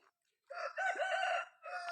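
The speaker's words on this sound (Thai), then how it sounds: "ไก่ขันเอกเอกเอก ไก่ขันต้อนรับละ" A rooster crows close by at a Buddhist temple in the morning, a short call followed by a long drawn-out crow and another starting at the end, clear against quiet.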